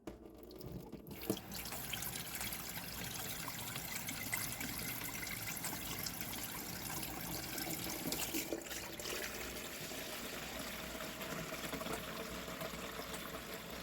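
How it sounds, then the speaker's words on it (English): Cold tap water runs into a bowl in a home kitchen, a steady trickling splash that continues evenly at moderate volume, with no talk. "I'm going to go ahead and fill this bowl up with some cold water."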